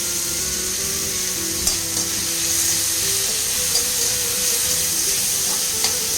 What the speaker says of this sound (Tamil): பெரிய வெங்காயம் போட்டுக்கலாம்.